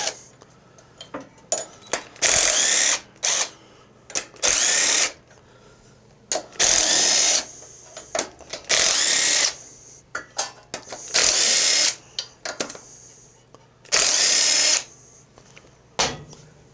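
Power tool tightening bolts on a Craftsman riding mower, a series of loud, whirring bursts of about a second each, separated by short quiet pauses, close by.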